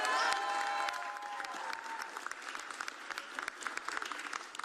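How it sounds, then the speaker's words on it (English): Applause in a legislative recognition event for a bill's prime sponsor, a crowd clapping steadily for several seconds at moderate distance, thinning slightly toward the end. "a round of applause for our prime sponsor on this legislation"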